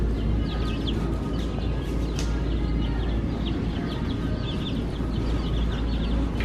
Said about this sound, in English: I do hear some chirping here. Must have some chickens here.